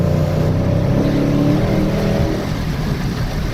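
A Dodge Challenger fitted with an aFe GT Momentum cold air intake accelerates hard, its loud, steady engine drone building with rising tones before easing off toward the end.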